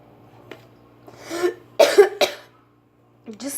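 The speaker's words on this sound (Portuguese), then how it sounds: "Desculpem pelas tosses, tá? Porque eu tô com muita tosse." A woman coughs several times in short, harsh bursts and clears her throat while making a microwave pie in a home kitchen. The coughs are close and fairly loud, with pauses between them.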